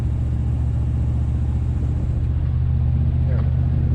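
A Chevy Suburban's exhaust runs through a swapped middle muffler on a hot Florida day, giving a steady, deep low rumble that holds close and even throughout, with voices over it.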